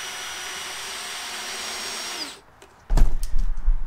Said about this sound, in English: I didn't really have any good cordless drills.